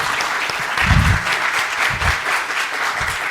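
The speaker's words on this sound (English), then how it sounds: "I would like to request to please clap for Shah Jamal" A seated audience at a university faculty talk gives a short burst of hand-clapping that rises quickly, then thins out after a few seconds.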